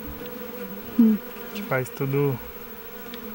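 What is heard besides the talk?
honeybees buzzing around beehive with queen bee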